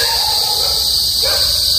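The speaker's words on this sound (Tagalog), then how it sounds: "Sobrang lakas po ng ng kuliglig mga master." Loud crickets chirp at night outside an abandoned WWII-era morgue, a dense, continuous high-pitched trill filling the air without pause.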